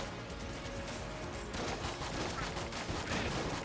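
Rapid pistol gunfire from the video game Enter the Gungeon, a dense burst of shots layered over game music and effects, fairly quiet overall.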